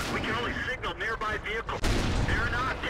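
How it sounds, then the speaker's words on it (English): Tank cannon fire from a T-28 in World of Tanks, a heavy boom landing near the end after steady engine rumble, with someone talking over it. "and the second shot finishes him."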